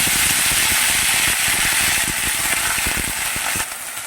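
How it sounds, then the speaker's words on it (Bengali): A whole chili dropped into hot oil for tempering gives a loud, crackling close-up sizzle with rapid irregular pops. The sizzle eases slightly toward the end. No one talks. "এরপর আমি একটা লঙ্কা, গোটা লঙ্কা ফোড়ন দিয়ে দেবো।"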